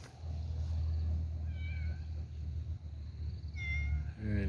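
A cat meows a few times near a flooded olive grove after a downpour. The calls are faint and spaced apart over a steady low rumble of water and wind.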